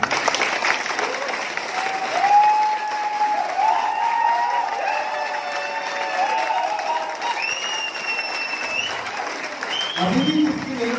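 A training-session crowd in Panipat applauds, a sustained wash of clapping and some cheering, with a tonal melody running through it and voices rising near the end.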